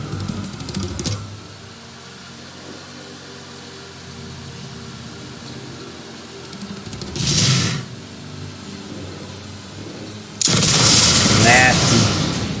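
A tank cannon fires in a World of Tanks console match as a short, heavy boom midway, followed by a louder, sustained blast-and-rumble near the end, over low in-game engine noise with a commentator talking.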